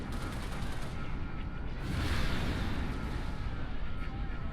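A Wraith tank in Halo: Reach fires in muffled, rumbling booms that swell into a louder blast in the middle, with heavy low-end roar over the battle din.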